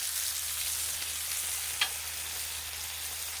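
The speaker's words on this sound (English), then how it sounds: "Festivus flipping of the bacon." Bacon crackles and sizzles steadily on a Blackstone griddle, a soft, even hiss with one brief scrape as a strip is flipped.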